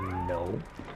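A pet cat meows once in the background, a drawn-out, wavering cry heard up close over a steady low hum.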